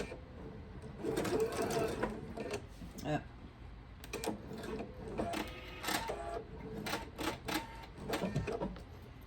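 A sewing machine stitches a quilt block in short rapid bursts, its fast mechanical chatter starting and stopping close by while someone talks between runs.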